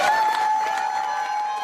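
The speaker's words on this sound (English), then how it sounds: "Cheered on by a crowd of supporters" Crowd of supporters cheering outside the High Court, a brief, loud, steady wash of applause and voices under a high tonal hum.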